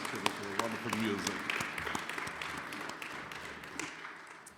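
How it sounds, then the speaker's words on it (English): Audience members in a school chapel clap in a moderate, scattered round of applause that gradually tapers off, with a voice speaking over the start. "Let's give a round of applause to Mr. Chiddick"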